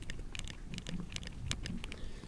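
Faint, rapid crackling and creaking from the folding screen of a Motorola Razr 2020 as it is scrolled up and down, quiet ticks scattered over a soft background.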